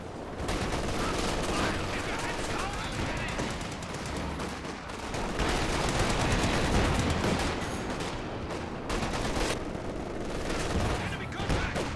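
Heavy continuous battlefield gunfire in Company of Heroes 2, machine-gun bursts and rifle shots layered into a loud, dense roar that barely lets up over the whole stretch.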